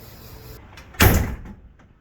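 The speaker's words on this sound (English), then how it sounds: "The door itself is air driven with its own air compressor and air supply" An air-driven RV entry door with its own compressor and air supply swings with a sudden loud whoosh and thump that trails off over about half a second, with a quiet hum before and after.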